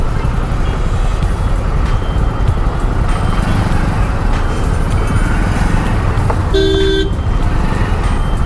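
Loud, dense road traffic rumbles continuously with engine noise, then a single sharp car horn toot sounds near the end.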